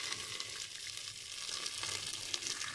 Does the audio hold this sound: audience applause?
no